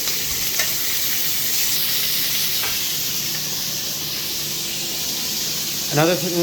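Chicken pieces for piccata sizzle and fry steadily in a pan, with a brief clatter near the end as they are flipped.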